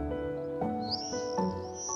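Swifts calling as they gather overhead in a Dorset summer sky, a thin, high, drawn-out screaming call sweeping above a steady low background hum.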